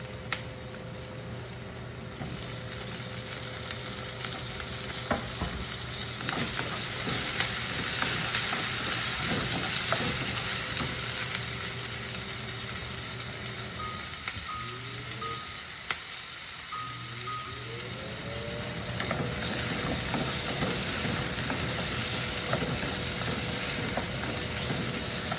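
Potatoes with onions fry in a pan for an aloo mutter dish, a continuous close sizzle with occasional stirring clatter, while a faint steady tonal hum and a few short rising tones sound in the background.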